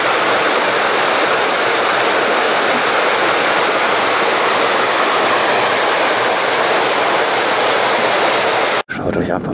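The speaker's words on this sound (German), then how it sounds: "Es ist ja auch mal schön, wie das Wasser da so runterkommt." Water cascading down a rocky stream in Saxon Switzerland, a steady broadband rushing roar that stays loud and unbroken for most of the clip, then cuts off sharply near the end.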